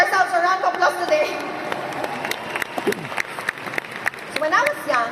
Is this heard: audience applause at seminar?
yes